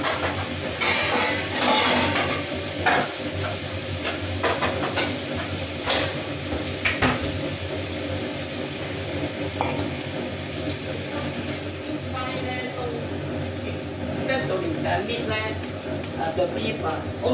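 Mushroom fries in a pan with a continuous sizzling hiss and occasional utensil clinks, while people talk over it throughout.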